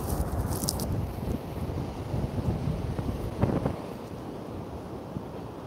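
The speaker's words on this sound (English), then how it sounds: "Let me know if it's really, really windy" Strong wind from a windstorm at Coney Island buffets the microphone in continuous low gusts, with a rushing roar throughout and no voices.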